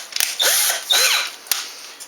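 A power drill used as a hurry-up wrench on an aircraft wing build, whirring up and down in short bursts with rising and falling pitch, plus a few sharp clicks of metal parts.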